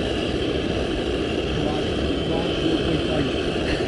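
An old-style camping stove, a forerunner of the rocket stove, burns while food cooks outdoors at a wild camp on Fan Fawr, giving a loud, continuous, close roar that holds steady throughout.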